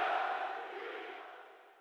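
A virtual football stadium crowd in PES 2011, during a World Cup third-place match between Italy and Turkey, roars as a broad wash of noise that slowly fades, with no talk over it.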